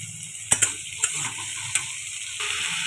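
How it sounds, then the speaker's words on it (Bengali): Potatoes frying with whole cumin in hot oil in a pan, a steady sizzle broken by several sharp clinks and scrapes of stirring, close and alone without talk. "গোটা জিরে দেওয়ার পরে কেটে রাখা আলুগুলোকে দিয়ে দিতে হবে। আলুগুলো এবারে ভেজে নেব।"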